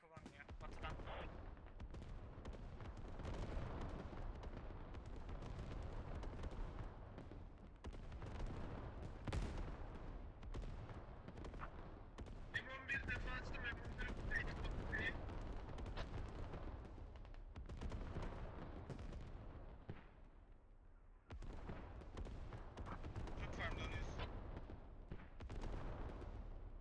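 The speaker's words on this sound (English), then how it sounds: "Artillery being very, very destructive" Heavy artillery barrage in the tactical shooter Squad during a tournament grand final, with dense booming impacts and rumbling gunfire over a continuous low roll. A commentator talks over it almost the whole way.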